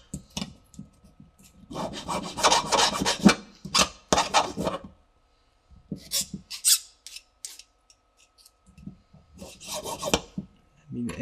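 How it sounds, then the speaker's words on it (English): Aluminium is sanded by hand in several close, loud bursts of scratchy, rasping strokes, separated by short pauses and quieter gaps. "We sand it now quick."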